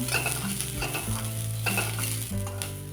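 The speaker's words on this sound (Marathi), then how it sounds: "कांदा पण आपल्याला चांगला भाजून घ्यायचा आहे" Chopped onion fries in a pan for a spicy Maharashtrian amti, with a continuous sizzle and scraping stirs close up and no voices.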